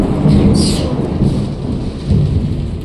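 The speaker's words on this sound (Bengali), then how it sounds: "এখন বৃষ্টি পড়ছে" A low rumble of thunder rolls under steady heavy rain, with a dense wash of falling water throughout.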